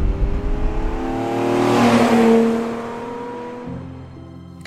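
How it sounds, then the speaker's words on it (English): Lamborghini Islero V12 engine revving up loudly, a steady harmonic growl that climbs to a peak around mid-clip then settles into a lower idle, close and alone with no talk. "it's when you turn the key and unleash the Islero's mighty V12 engine"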